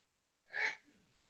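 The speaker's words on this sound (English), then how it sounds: "You can hear my brother-in-law sneezing all the way down here." A man's single short, sharp sneeze, muffled and somewhat distant, followed by a brief quiet rustle.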